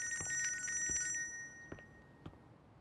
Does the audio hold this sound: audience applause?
no